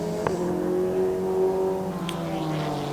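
GT3 race cars at the Portimao circuit during a 24-hour endurance race, engines droning steadily and loud with a held tone, a brief sharp burst near the start.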